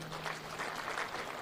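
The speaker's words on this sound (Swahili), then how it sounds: "Tuwapigie makofi hawa wadosi." Applause for labour leaders at a Labour Day celebration, a steady wash of many hands clapping from a crowd, continuous and fairly even for the whole moment with no voices over it.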